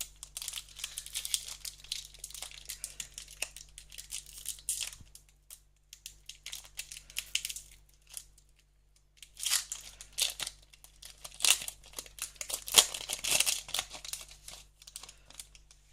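A Pokémon HeartGold SoulSilver booster pack's foil wrapper crinkles and tears in close, irregular bursts, with quieter pauses between rustling handling sounds and a faint steady hum underneath.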